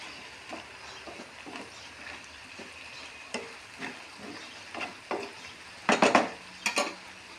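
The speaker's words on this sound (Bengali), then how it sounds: "তো আমি এখন ঢাকনাটা তুলে একটু নাড়া দিয়ে দেব।" Malabar spinach cooking in a covered pan as the lid is lifted, followed by soft spatula stirs and light sizzling, then a burst of louder metallic clatter from the lid and utensil near the end.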